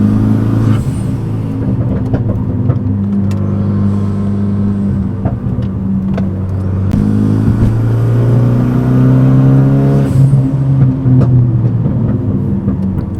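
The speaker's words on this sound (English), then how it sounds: "accelerating towards the corner, getting on those brakes, and then turning the car in" Renault Megane RS engine surging, easing off and climbing again as the car accelerates, brakes and turns in, a loud in-cabin roar with rising and falling pitch sweeps and a sharp shift near the middle.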